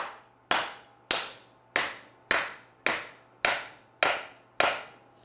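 A hammer taps a U-joint into the carrier bearing of a Toyota Tacoma: eight sharp metallic strikes, evenly spaced about two-thirds of a second apart, each ringing briefly and fading. The strikes are close and loud, with no talk.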